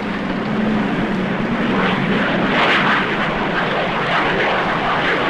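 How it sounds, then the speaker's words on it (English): Aircraft drone of a World War II era airplane flying overhead, a loud steady engine roar that swells slightly midway and stays constant, with no talking. "Hey, look! Airplane!"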